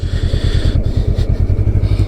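A Honda Rebel 500 motorcycle with its stock exhaust idles close by, a loud, steady low-pitched thump pulsing at an even, rapid rhythm with a light mechanical clatter on top, no voices.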